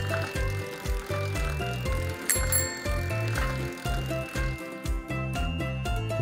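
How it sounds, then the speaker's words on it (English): Bicycle with a bell that rings briefly and brightly once partway through, over a loud, rhythmic background of pulsing music and mechanical clatter. "It's a bicycle."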